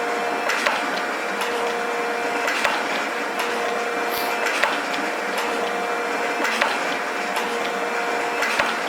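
Steady mechanical grinding and whirring with regular sharp ticks repeating about once a second, a Rockford metal shaper cutting metal and hitting a hard spot at close range, no voices.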